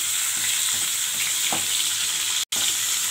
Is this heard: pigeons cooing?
no